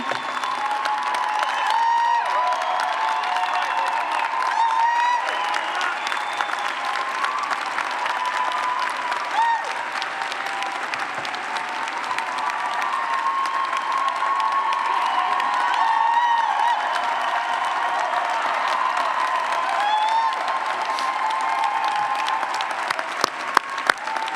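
A graduate commencement audience for the class of 2017 applauds Senator Chang Diaz with a long, steady wall of clapping that holds at an even level, broken by scattered whoops and cheers.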